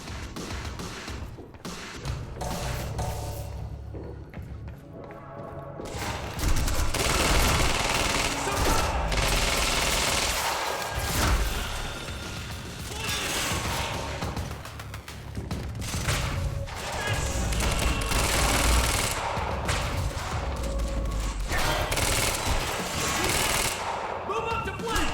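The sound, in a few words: bullets exploding at once in the video game Quantum Break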